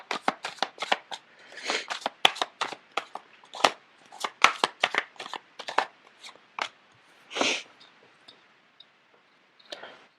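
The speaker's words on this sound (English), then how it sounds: "The cards are not shuffling too well." A deck of tarot cards is shuffled by hand in quick, crisp riffling bursts and flicks, close and fairly quiet with short pauses between, no talk over it.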